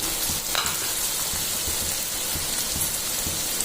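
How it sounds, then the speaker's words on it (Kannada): Beetroot pieces frying in hot oil with onions that have already browned, giving a steady close, bright sizzle with faint stirring scrapes, and no talking. "ಈಗ ಈ ಬೀಟ್ರೂಟ್ಗಳನ್ನು ಎಣ್ಣೆಲೆ ಹಾಕೋತಿದ್ದೀನಿ"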